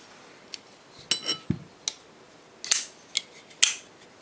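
TuffKnives Tanic folding knife flipped open with the right finger, a few crisp, close metallic snaps and clicks of the blade and detent, spaced irregularly over quiet room noise.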